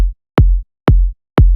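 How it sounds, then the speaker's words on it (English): Warm, smooth kick drum sample from a kick sample pack, four deep, punchy hits in a slow, even pulse, each a short click falling into a low boom, loud and isolated. "Let's take this kick example coming from my Smooth Kick Sample Pack Volume 2."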